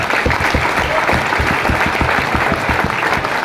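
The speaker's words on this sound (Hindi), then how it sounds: "जोरदार ताली बच्चे के लिए होनी चाहिए।" Audience at a Jim Corbett Nainital event clapping loudly for a child, dense steady applause with rhythmic claps standing out, sustained throughout.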